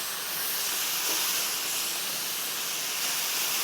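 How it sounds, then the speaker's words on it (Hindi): Chicken leg pieces, each cut in two, sizzle in a hot pan as they fry on both sides, giving a steady, loud broadband hiss with no talk over it. "दोनों तरफ से खाली पैन के अंदर ये पीसेस हमने डालने हैं और इसे हमने फ्राई कर लेना।"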